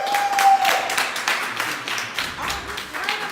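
A live podcast audience claps and cheers in a steady, moderately loud burst that runs for a few seconds, with some voices mixed into the applause.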